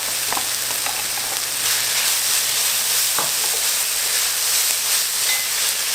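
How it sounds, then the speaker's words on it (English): Potatoes and onion stir-frying in a pan give off a loud, steady sizzle and hiss, with a few faint spatula scrapes now and then. "Stir fry a few minutes."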